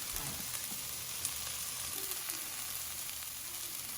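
Potatoes fry steadily in a pan over medium heat for a leftover-brisket breakfast hash, giving an even, crackling sizzle throughout with a few faint pops, no voices.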